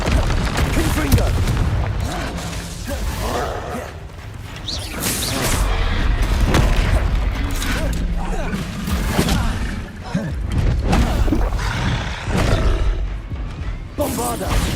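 Confringo blasting spell firing in the Hogwarts Legacy video game, a dense stretch of repeated booming bursts and crashes layered with battle noise, loud and continuous, with shouted voices mixed in.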